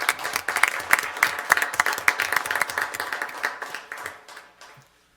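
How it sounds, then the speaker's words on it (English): An audience at a school district governing board meeting claps for an honoree, dense overlapping handclaps of moderate loudness that thin out and fade to silence near the end. "So let's give Mr. Karpinski a round of applause."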